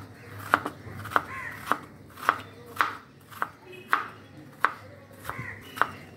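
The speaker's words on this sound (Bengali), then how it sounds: "ব্যাস এইভাবেই পুরো আলুটা আমি কেটে নেব।" A knife chops a potato into small pieces on a board, about ten crisp, evenly spaced strikes in a steady rhythm, close and clear with nobody speaking.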